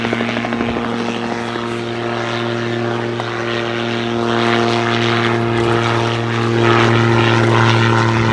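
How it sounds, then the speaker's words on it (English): Steady droning propeller engine of a Calidus gyrocopter with a 100 horsepower Rotax in flight at an air show, loud and close, with a constant hum that swells slightly toward the end. "The engine, which is a 100 horsepower Rotax, propels him around at a maximum of 114 miles per hour."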